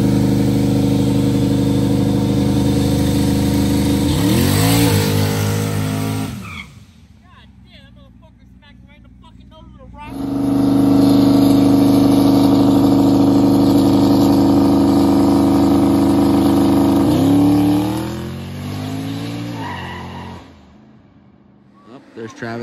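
A street racing car's engine revs hard and loud at close range in two long sustained pulls with a quieter idle gap between them, and people's voices are heard around it.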